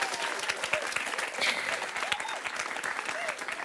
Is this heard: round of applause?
yes